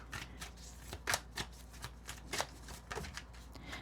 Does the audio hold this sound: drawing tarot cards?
yes